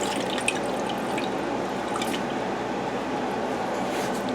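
Liquid poured off layered kombucha mother makes a steady close wash of splashing and dripping, continuous and fairly loud throughout with a few brighter drips on top.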